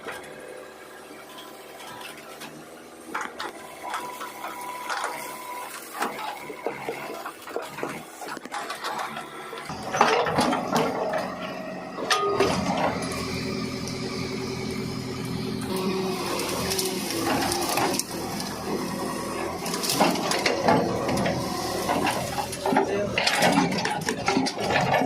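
A JCB backhoe working around a well and pulling out trees, its engine starting up after a quiet stretch into a loud, steady diesel rumble with mechanical clanks and rattles.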